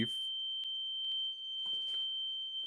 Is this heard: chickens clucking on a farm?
no